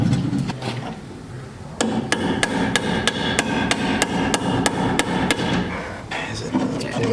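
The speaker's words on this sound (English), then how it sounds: "Try and hammer it down now, the bolt out." Sharp metallic hammer blows knocking a bolt out of a coilover mount on a Honda Del Sol during a Godspeed Mono SS install, a few scattered strikes and then a steady run of evenly spaced loud hits, close by.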